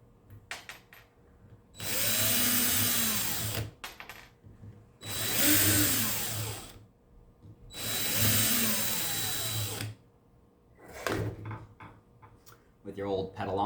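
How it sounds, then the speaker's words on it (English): A screw gun whirs in three sustained bursts of about two seconds each, driving out the screws from the bottom of a Dark Monk lotus petal, with short pauses and light handling noises between runs. "you're going to take out the 4 screws from the bottom"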